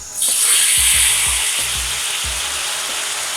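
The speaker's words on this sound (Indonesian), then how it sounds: "Setelah tahu kering, tuangkan kembali seperempat adonan yang sudah diaduk rata." Batter for crispy tofu hits hot oil in a loud, close burst of hissing sizzle that holds steady, with soft clunks of stirring underneath.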